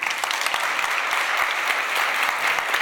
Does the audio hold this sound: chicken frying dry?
no